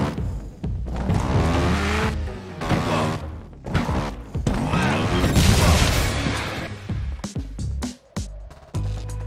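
Motorbike engine revving and crashing thumps on a custom-built track in the Trials Evolution game, with loud bursts of throttle, landings and impacts in quick succession and no talk.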